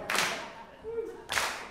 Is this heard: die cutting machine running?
no